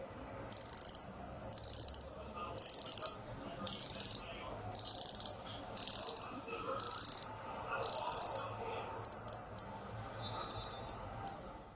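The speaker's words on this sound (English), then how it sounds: "here's what the bezel sounds like on the SteelDive." A SteelDive dive watch bezel being turned produces close, crisp ratcheting clicks in a dozen or so short rapid bursts separated by brief pauses, with no talk.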